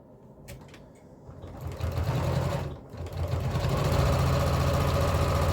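Sewing machine quilting fabric, its rapid needle chatter starting in short bursts and then running steadily and loudly, briefly pausing before resuming at full speed, close to the listener.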